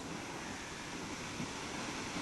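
The Serra do Aracá waterfall roars as a dense, continuous broadband rush of falling water and spray, steady and loud with no voices.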